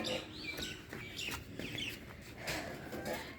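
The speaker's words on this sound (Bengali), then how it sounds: "আর এই যে দেখেন আমার ভাইয়ের কবুতর।" Pigeons kept at a village home in Bangladesh give soft chirps and calls, several overlapping close by over a light background of rustling and knocks, with no talking.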